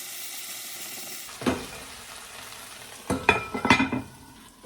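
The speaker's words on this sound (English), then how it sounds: "Okay, so now you can mix it around." Honey garlic chicken cooking in a single pan while being stirred, a low sizzle broken by several scraping, clattering stirs of a utensil against the pan, close up with no talk.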